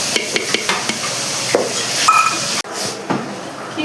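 Ground spice paste goes into fried onion paste in a clay pot for handi chicken, with repeated close scraping and clinking of a spoon against the pot over a soft sizzle.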